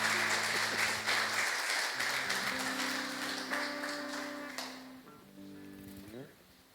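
Church congregation applause welcoming a woman preacher, a broad wash of clapping over sustained keyboard chords that gradually thins and fades as the music settles.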